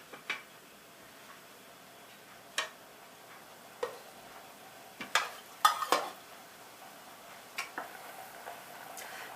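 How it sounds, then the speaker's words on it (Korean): A thick, simmering stew of browned meat, potatoes and carrots in a pot, stirred now and then, with occasional spoon knocks and scrapes against the pot over quiet background, spaced apart with a brief cluster in the middle. "굉장히 걸쭉한 소스이기 때문에 중간에 한 번씩 저어가면서 끓여주세요."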